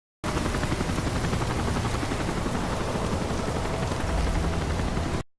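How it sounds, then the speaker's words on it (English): A helicopter in the Call of Duty: Modern Warfare 3 video game roars loudly and continuously, its dense rotor and engine noise filling the whole stretch before cutting off abruptly. "Be mindful of the helicopter."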